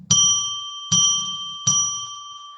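A bell is struck three times at an even, unhurried pace, each bright ringing tone sustaining and fading before the next strike. The ringing sounds close, with no talking around it.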